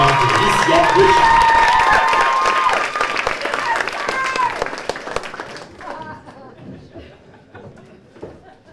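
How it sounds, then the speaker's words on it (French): An audience at a local student performance final bursts into loud applause and cheering for a performer, with shouts over the clapping; the applause fades gradually into a scattered patter with some crowd chatter. "Une bonne d'applaudissements pour Tricia Richard."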